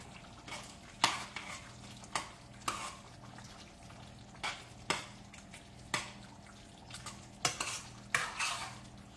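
A utensil stirs a creamy shrimp, sausage and grits casserole mixture in a pan, giving a dozen or so sharp scraping clinks at an uneven rhythm over a low steady background, close and fairly loud with no talking.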